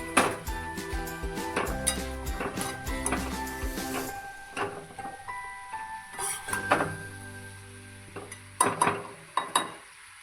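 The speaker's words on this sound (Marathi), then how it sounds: "झाकण काढून चमच्याने भाजी मिक्स करावी" A spoon stirs cabbage curry in a covered kadhai, with repeated metallic clinks and scrapes against the pan over a quiet background.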